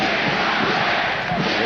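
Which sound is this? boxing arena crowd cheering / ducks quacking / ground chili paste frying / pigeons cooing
boxing arena crowd cheering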